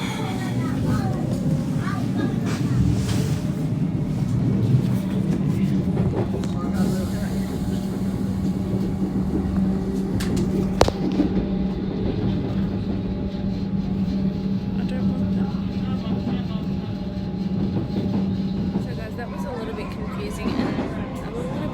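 A Melbourne train rumbles steadily into a station platform, a low continuous mechanical drone with some squeals and clanks, people faintly audible nearby.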